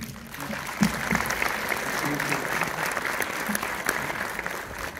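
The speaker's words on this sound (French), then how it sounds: "Ah, bravo, en tout cas on peut vous applaudir." An audience applauds steadily at a film premiere in Orléans, a dense, even wash of clapping that lasts throughout, with a few brief voices mixed in.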